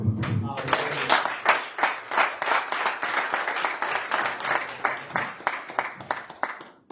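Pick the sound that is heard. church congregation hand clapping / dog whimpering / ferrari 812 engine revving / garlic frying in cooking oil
church congregation hand clapping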